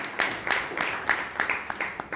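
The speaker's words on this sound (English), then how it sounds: "Please give another round of applause." Audience at a Toastmasters club meeting applauding, a short burst of many hands clapping at a brisk, uneven rhythm, moderately loud and close.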